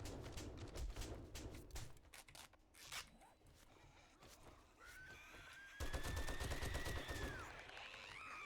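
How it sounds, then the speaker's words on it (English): Video-game gunfire comes in scattered sharp shots and rapid bursts, fairly quiet overall, mixed with whooshing and other game sounds, and grows busier toward the end. "Everything and their mama wants to shoot at me."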